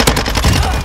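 Sniper rifle fire in Call of Duty Modern Warfare 2, a loud, close burst of rapid gunfire filling a brief moment.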